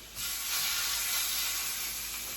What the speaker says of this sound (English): when we put this chicken in, you're going to hear a nice sizzling, searing sound